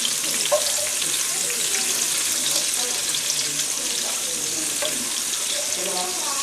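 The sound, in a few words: stirring food frying in an earthenware casserole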